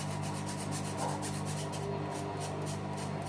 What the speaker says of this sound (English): if you got lumps, just scrape it off until it is sifted through